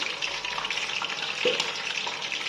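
Peanuts deep-fry in oil heated to about 170 degrees, giving a steady close crackling sizzle with small pops scattered throughout.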